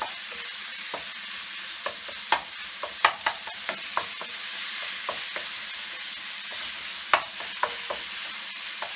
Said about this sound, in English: kind of cook the chicken down, and I'm going to break it to really small little pieces